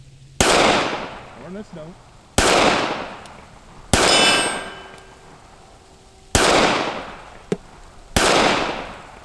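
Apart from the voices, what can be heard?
Ruger LCPII pistol shots hitting steel cowboy target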